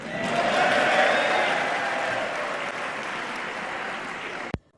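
An audience applauds during a state of the nation address, a broad, sustained wash of clapping that swells early, slowly thins and then cuts off abruptly.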